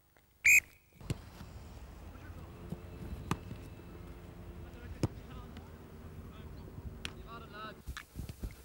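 A single sharp whistle blast rings out at the start, followed by scattered thuds, distant shouts and outdoor bustle.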